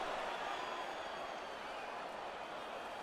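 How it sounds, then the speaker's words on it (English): A crowd in EA Sports UFC 4 roars and applauds after a round of a Khabib Nurmagomedov vs. Israel Adesanya fight, a dense, steady wash of cheering and clapping that stays fairly loud for the whole stretch. "So the crowd voicing its appreciation after that round."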